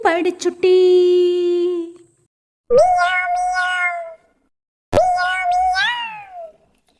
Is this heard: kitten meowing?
yes